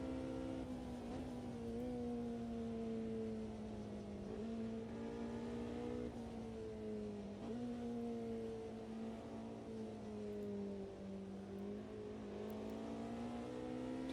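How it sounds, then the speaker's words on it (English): A Porsche race car's engine, heard from on board in an endurance racing game at the Mosport Grand Prix circuit, holds a loud, steady high-revving drone that dips and climbs again with several gear changes. "How good does it sound on board here of these Porsche as well for Newcastle Racing?"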